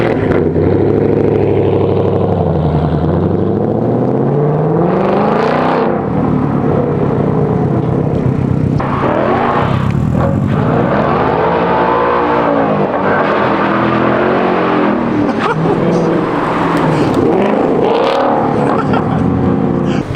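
Subaru STi fitted with a titanium exhaust revving hard, its engine note rising and falling through repeated loud blips and sustained high revs, close and dominant from start to finish.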